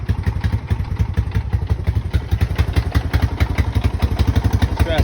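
A Honda 450 ATV with four-wheel drive engaged idles close by, its engine putting out a rapid, even thumping pulse with light mechanical clatter throughout.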